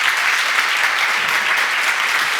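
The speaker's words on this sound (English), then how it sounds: "he needs a lot of applause" Audience applause for Alain Parmentier as he stands to be introduced at a police LGBTIQ+ allies talk, a steady, dense wash of many hands clapping that holds evenly at full strength throughout.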